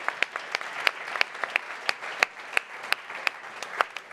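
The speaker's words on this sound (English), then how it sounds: "I think it's a massive applause for that" Sparse clapping at a cycling team kit launch for Trek-Segafredo, a small audience producing a steady patter of distinct individual claps at moderate volume.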